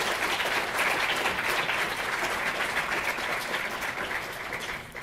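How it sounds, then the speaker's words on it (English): Sustained applause from a conference audience at a leadership summit's closing session, a dense, steady wash of clapping that holds for the whole stretch and eases slightly toward the end, with no talk over it. "So please, a round of applause for all of them."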